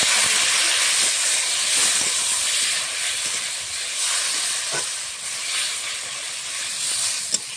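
Ground ginger and chili paste sauté in a pan for a light fish curry, a continuous close hiss and sizzle with a few small taps of stirring throughout.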